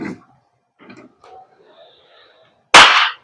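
A single sharp, loud crack from an Umarex Glock 17 Gen 5 MOS GHK gas blowback airsoft pistol, heard near the end after a few soft, faint background noises.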